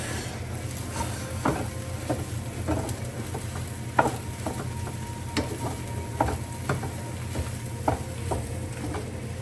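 Fried rice with meat sizzling steadily in a hot pan, with repeated scraping and clacking strokes as it is stirred, close up and continuous with no talking.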